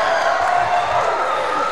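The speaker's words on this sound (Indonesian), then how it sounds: "Ya, tepuk tangan ya." Audience applause at a school orientation event, a brief wash of clapping and crowd noise at moderate level, fairly even throughout.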